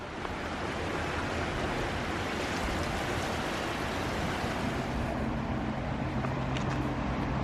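A river in Gauja National Park, Latvia, flows past a nearby bridge, making a steady, broad rushing wash of water that stays even and close throughout, with no voices.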